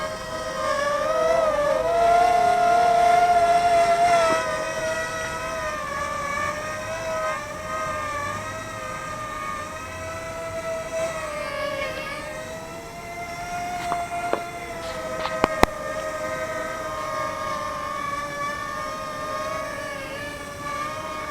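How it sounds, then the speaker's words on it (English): A Parrot Blaze minidrone flies with a loud, steady electric whine from its spinning propellers, the pitch wavering up and down as it hovers and moves, with a few small knocks near the end. "Fairly loud for such a small drone."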